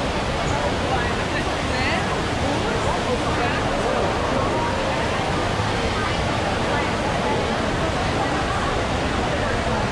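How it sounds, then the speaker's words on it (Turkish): The indoor waterfall at Singapore Changi Airport gives a constant, broad roar of falling water, steady throughout, with crowd murmur blended underneath. "Burası yanılmıyorsam dünyanın en yüksek indoor şelalesi."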